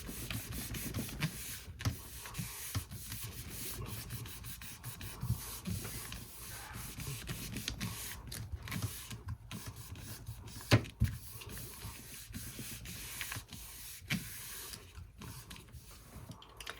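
Bare hands rub paper down onto a gelli printing plate, giving a steady, close dry swishing and scuffing that continues throughout with small uneven strokes.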